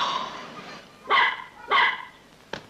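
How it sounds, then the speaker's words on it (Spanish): A small puppy on a beach barks three times, sharp yapping bursts spaced about half a second to a second apart, close and loud against a quiet background. "¡Perro!"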